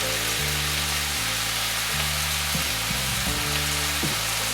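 Thinly chopped beef frying in a hot pan with black bean sauce and noodles nearby, a steady close sizzle hissing continuously with no talk.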